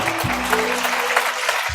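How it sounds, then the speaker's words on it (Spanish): A church congregation applauds during a sermon, a brief burst of dense clapping under a sustained low musical tone, moderately loud and close. "Denle fuertes aplausos al Señor."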